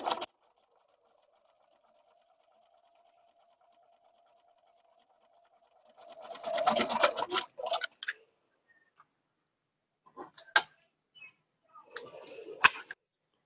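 Domestic sewing machine stitching quilt block pieces, a soft steady whir with quick mechanical clicking in short bursts, close and quiet, after a long stretch of faint hum.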